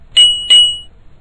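Two quick bright rings of a small bicycle-style bell, close and loud, each chime ringing out briefly before fading into quiet.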